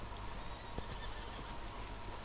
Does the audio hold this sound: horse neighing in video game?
yes